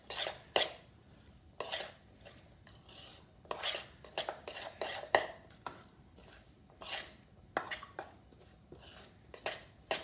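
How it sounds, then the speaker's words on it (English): Pico de gallo ingredients are stirred in a bowl with a utensil. Irregular clinks and scrapes repeat close by at a quiet level, with brief pauses between strokes. "I'm going to go ahead and stir it. Bring all of our ingredients together."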